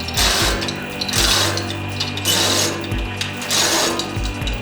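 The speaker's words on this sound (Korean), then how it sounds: "1차적으로 고정된 빔은 천장과 딱 맞붙게 체인블록을 사용해 끝까지 올려줍니다" A chain block hoist lifts a steel H-beam up against the ceiling during renovation of a 25-year-old single-storey building, giving a steady close mechanical ratcheting and clattering in repeated pulses as the chain is hauled.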